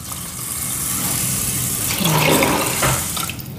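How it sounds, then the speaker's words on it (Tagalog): Water pours and splashes into a pot of rice being cooked as a Filipino pastil dish, a short running gush that grows fuller toward the end. "lagyan natin ng tubig"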